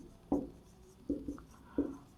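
Chalk or marker strokes on a board during an economics statistics lecture on central tendency, three short distinct tapping scrapes spaced about a second apart, quiet and without talk.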